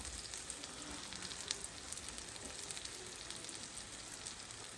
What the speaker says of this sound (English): Mine is sizzling way good, but I think it is not quite sizzling enough.